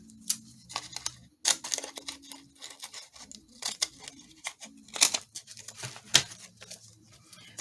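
Scissors snip through a Christmas artist trading card while trimming its bottom edge, a string of short, close crisp cuts at an uneven pace with brief pauses between, no talking.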